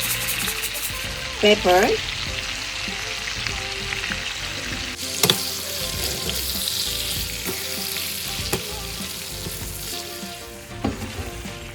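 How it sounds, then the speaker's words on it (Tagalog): Fresh scallops sizzle and fry in butter and cream in a pan, a steady hiss broken by occasional stirring scrapes and clinks, while a voice speaks briefly over the cooking. "halu-haluin hanggang sa maluto"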